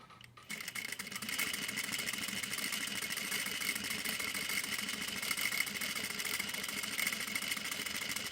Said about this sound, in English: press the pedal to get the machine to sew